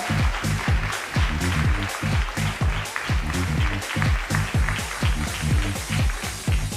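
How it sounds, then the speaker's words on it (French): Audience at a fashion show applauding the models, sustained crowd clapping with a rhythmic, partly unified beat, loud and continuous with no talking over it. "je vais vous demander une nouvelle fois de bien vouloir les applaudir, s'il vous plaît"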